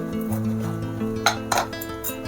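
A fork scrapes the seeds out of a peeled pointed gourd (potol), giving close, light clinks and scrapes on a hard surface, with a couple of sharper taps near the middle.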